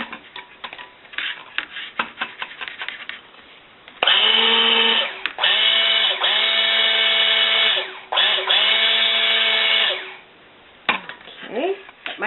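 An electric whisk mixes honey into soap batter for honey almond oatmeal soap, its motor whirring loudly in two long runs with a brief pause, preceded by clicks and handling noises and followed by a short final burst.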